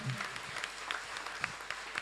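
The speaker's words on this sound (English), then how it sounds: "Big clap." Worshippers at a live Lenten deliverance retreat clap their hands, soft, irregular claps with a faint voice and low background hum underneath.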